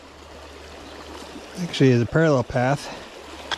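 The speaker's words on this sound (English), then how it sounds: "So you got this stream breaking up in 2 parts here, and the part coming out from underneath the rocks." Stream water splitting in two and flowing over and out from under rocks on the Appalachian Trail, a steady soft rush in the background while someone speaks briefly over it.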